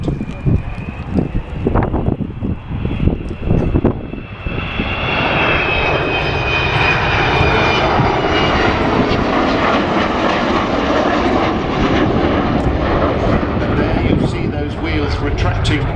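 An Avro Vulcan bomber passes overhead, a loud sustained engine roar that swells and holds with a high whining howl and wind buffeting, while someone talks at the start.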